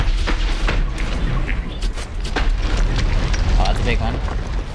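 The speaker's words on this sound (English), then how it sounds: "It's like he's making geysers or something. Or like ground explosions" Ground explosions erupting around the crocodile god Sobek in the Assassin's Creed Origins video game, a steady barrage of booms and bursts layered over continuous game noise with a voice talking throughout.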